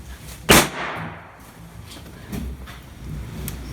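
One loud, close crack as a Quake impact airsoft grenade primer goes off when dropped, followed by a brief decaying tail and faint handling noises afterward, with no speech.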